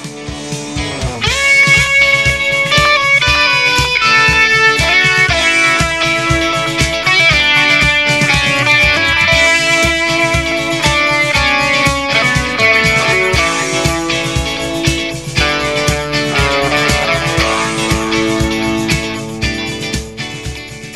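Electric guitar plays a rock song's lead with light overdrive, a continuous run of melodic phrases and sustained notes heard alone and close.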